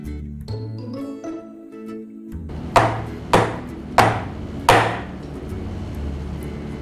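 Cake mold filled about three quarters with batter for a pull-me-up cake, tapped on a counter to knock out air bubbles: four sharp knocks about 0.6 seconds apart, close and fairly loud, with no voice.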